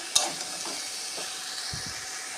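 Vegetables and soybean chunks sizzle steadily in a hot pan, with a sharp clink of a utensil at the start and occasional stirring scrapes.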